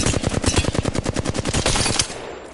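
Rapid automatic gunfire in the video game Apex Legends, a loud sustained burst of evenly spaced shots lasting about two seconds before cutting off.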